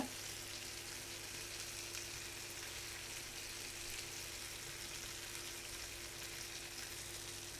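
Chicken pieces coated in peri peri spices fry in a pan, a faint, even, continuous sizzle with no distinct stirring or voices, steady throughout.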